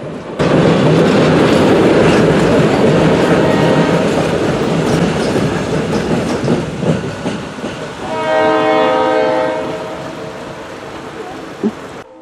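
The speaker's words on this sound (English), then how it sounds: "B&O 800 is a Montreal Locomotive Works FPA-4 built in 1959 as Canadian National 6780" A Montreal Locomotive Works FPA-4 diesel locomotive rumbles past loudly with clattering wheels, then sounds a sustained multi-tone horn near the end before the noise fades.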